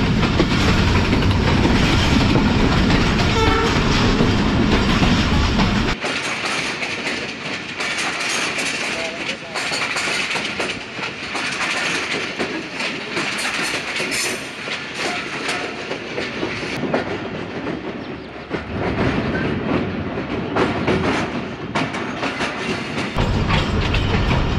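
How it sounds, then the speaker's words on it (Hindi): The Sialkot Express rolls along the rails toward Naarang railway station, a loud steady clickety-clack of wagons with rumble and hiss throughout, heaviest low rumble in the first seconds, with voices faintly present at times. "सियालकोट एक्सप्रेस अपना तीसरा स्टॉप करने जा रही है नारंग रेलवे स्टेशन पर"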